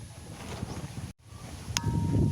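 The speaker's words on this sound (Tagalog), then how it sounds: "lumakas yung hangin habagat" Strong habagat monsoon wind gusting against the microphone, a loud rushing roar with a brief dropout in the middle, then swelling again.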